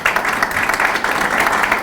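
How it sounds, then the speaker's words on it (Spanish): Audience applause welcoming a speaker at a meeting of a Catholic engineers' association, dense and steady clapping from a crowd that fills the whole moment. "Lo recibimos con un fuerte aplauso."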